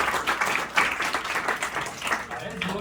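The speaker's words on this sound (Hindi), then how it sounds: "उनके लिए भी जोरदार तालियां हो जाए" Applause from an audience at a legal awareness program in an institute hall, uneven, fairly close clapping that rises and dips across the clip, with a voice speaking over part of it.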